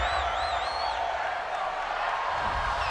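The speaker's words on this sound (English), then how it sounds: "This home crowd, they're happy with that call." A Madden NFL 20 home crowd at a Rams vs 49ers game, a steady roar of cheering and whistles filling the stadium, loud and continuous under faint commentary.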